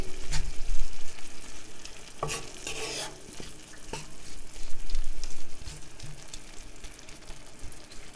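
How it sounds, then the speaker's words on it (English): Spicy-sweet vegan sambal sauce simmering and reducing in a pan, a steady close bubbling sizzle with a few louder stirring scrapes and spoon clinks, no talking. "we want to get this up to a simmer and then let it do its thing, hang out, and keep cooking and reducing"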